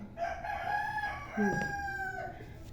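A rooster crows nearby in a long, drawn-out call, with a second crow overlapping, over faint background farmyard noise.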